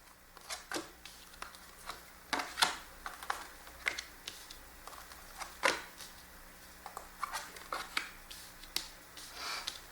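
Tarot cards are shuffled close up in an irregular series of soft, sharp riffles and taps over a quiet background, with no talking.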